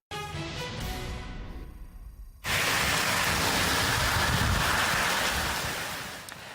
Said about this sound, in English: Strong winds and heavy rains lasting well into the night.